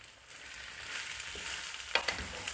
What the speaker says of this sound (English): So just make sure you stir fry this very well so all the ingredients will just go around all the grains of the rice.